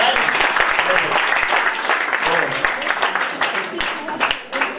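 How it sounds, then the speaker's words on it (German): Audience applause fills the whole stretch, a dense steady patter of many hands clapping at close to moderate distance, with some voices mixed into the crowd noise. "Dicken Applaus."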